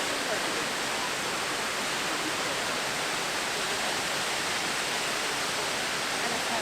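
A waterfall at Pictured Rocks roars as a loud, steady, broadband rush of falling water that fills the scene without a break.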